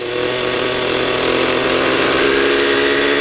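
An O.S. 105 nitro model engine burning 30% fuel screams at full power, a loud, continuous, harsh mechanical whine that holds steady without pause.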